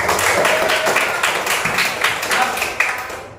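Classroom pupils in an Indonesian lesson on smart and non-smart machines break into applause, a busy patter of many small hands clapping together, with some voices mixed in.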